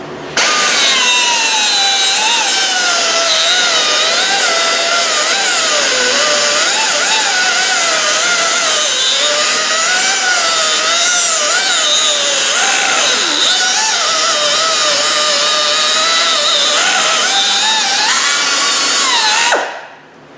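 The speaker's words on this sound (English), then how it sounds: "We're gonna take a chop off a wheel stud." A cutting disc on a power tool slices through a wheel stud on a Chevy Traverse, a loud continuous high-pitched whine with a wavering tone for about twenty seconds before spinning down.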